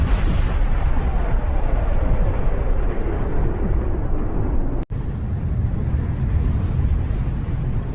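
A huge cosmic Big Bang explosion effect: a dense, roaring broadband rumble sustained for several seconds, with a brief cut partway through before the deep, loud roar continues unbroken.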